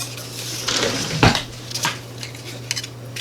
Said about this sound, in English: I'll try with a knife first.